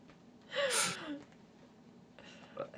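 A single sharp gasp, quick and fairly close, rising out of quiet room noise, followed by faint murmuring breath afterwards.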